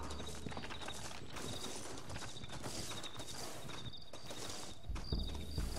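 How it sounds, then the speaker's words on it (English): Horse hooves clip-clop steadily through the ride in Red Dead Redemption, a continuous rhythmic patter of several horses over a dense game backdrop, with a louder thump near the end. "Looks like Carlos left us some horses."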